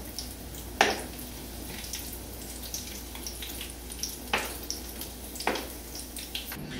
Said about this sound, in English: This is just a matter of frying the crust and reheating the croqueta mix.